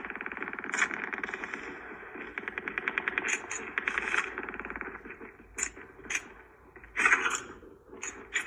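Rapid submachine gun bursts fire in a mobile shooter game played on a Samsung Galaxy Note 20 Ultra, with repeated crackling volleys and sharp individual shots, fairly loud and close, with brief gaps between bursts.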